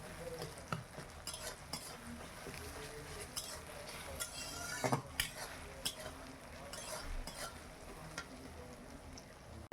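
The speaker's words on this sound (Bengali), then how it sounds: "কড়ায় যে পেঁয়াজটা দিয়েছি, পেঁয়াজটা ভাজছি।" Onions frying in a wok, a close continuous sizzle with stirring scrapes and occasional clinks of a utensil against the pan, busy household sounds and faint voices in the background.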